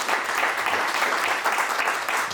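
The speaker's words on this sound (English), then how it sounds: "Give yourselves a round of applause." Steady applause from an audience at a talk, dense continuous clapping filling the whole stretch at a fairly close, even level without pauses.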